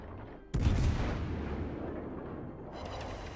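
Stern turret gunfire from a Tier IX American cruiser, USS Buffalo, in World of Warships: a sudden heavy booming salvo erupts, then a loud sustained rumble rolls on and slowly fades, with a brighter swell near the end.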